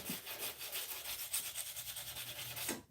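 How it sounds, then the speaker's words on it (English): Hand sanding of knife blades, a steady rapid back-and-forth rubbing rasp repeating in quick strokes, close and continuous with no talking. "But it's a lot of tedious sanding, that's for sure"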